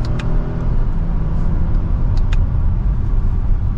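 A 2025 Lexus ES350 accelerates hard in sport mode in second gear, a steady close engine drone with road rumble building throughout, no talking.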